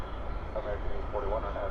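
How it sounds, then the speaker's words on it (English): A plane taxis toward the cargo facility at DFW airport at night, a steady low engine rumble with a faint whine, heard from a distance under a person speaking nearby. "This is about as close as an aircraft will get to us here at Founders Plaza."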